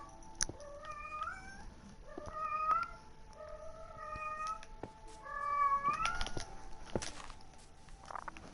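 A cat meows repeatedly in the Minecraft video game, several rising, tonal mews spaced a second or two apart, with footstep-like taps and clicks from the game between them.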